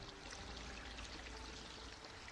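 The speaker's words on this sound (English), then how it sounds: "Okay, I can spray water." Water sprays in a steady, even hiss that stays faint and continuous for the whole moment, with no speech over it.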